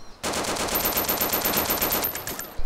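An AK101 rifle in the video game DayZ fires a fast, steady burst of about fifteen rounds, the sharp cracks running together in a rapid rhythm before stopping, with one last thud just after.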